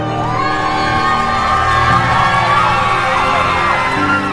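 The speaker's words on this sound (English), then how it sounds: "The crowd was so loud." Spectators cheer and shout at the finish line of a charity race with hockey players, a dense, loud roar that holds steady throughout with whoops rising above it.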